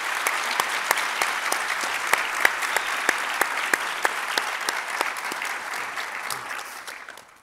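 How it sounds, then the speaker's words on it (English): Warm audience applause after a panel conversation on making college work, a steady patter of many hands with distinct individual claps, fading out at the end. "please join me in giving a warm hand of applause"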